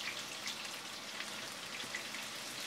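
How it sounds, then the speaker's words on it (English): Ginger and slit green chilies frying in a pan of hot oil give a steady, dense sizzle with fine crackles, continuous and close with no talking. "Let them sizzle slowly."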